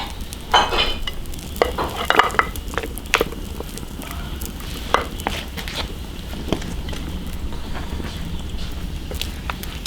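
Starch-coated beef ribs deep-frying in a wok, a dense continuous sizzle close by, broken by sharp clacks and scrapes of stirring and a low rumble underneath, with no one talking.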